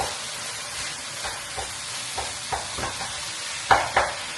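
Cooked rice is stirred into onion masala in a hot pan with a soft continuous sizzle, broken by scraping spoon strokes that grow louder near the end.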